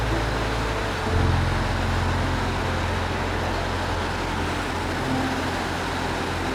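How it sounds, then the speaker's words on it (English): A car drives along a road heading toward the mountains outside Chengdu, a steady broadband rumble of engine and road noise holding at an even, close level throughout with no talking. "let's jump in our car and head to the mountains."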